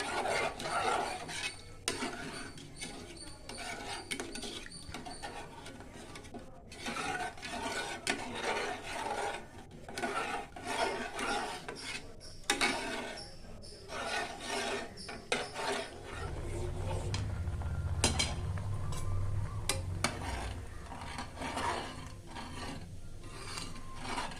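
A spoon scrapes and stirs milk steadily around a metal pot, with a continuous rasping, clinking texture and a low bubbling rumble building toward the end.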